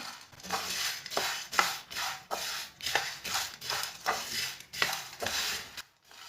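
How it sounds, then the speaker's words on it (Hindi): A cupful of chickpeas dry-roasts over low flame while a spoon stirs them, giving a rhythmic series of scraping, rattling strokes about once every half second, close and fairly loud, ending in a brief quiet. "इसे चम्मच चलाते हुए 2-3 मिनट तक भून लेना।"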